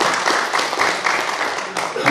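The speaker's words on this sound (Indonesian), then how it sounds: "tepuk tangan buat beliau" Audience applause greeting a Karawang district prosecutor's intelligence chief at a village heads' gathering with regional officials, steady dense clapping filling the hall, loud and continuous throughout.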